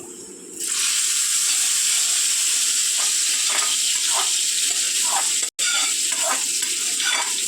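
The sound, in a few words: tempered fried mustard seeds poured in, sizzling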